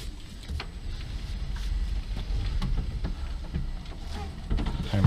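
A Renault Twizy electric car rolls slowly over private land, giving a close, continuous low rumble of tyres and cabin noise with scattered knocks and rattles and no engine note.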